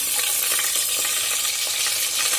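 Mustard seeds, cumin and dried chili sizzle loudly in hot oil for a cabbage dish, a dense continuous crackle with small pops throughout, close and alone.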